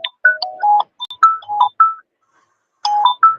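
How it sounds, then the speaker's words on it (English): A mobile phone ringtone plays a bright, melodic electronic tune of short chiming notes in two bursts separated by a brief pause, loud and close with no talking over it. "Your phone is ringing and is contradicting your voice."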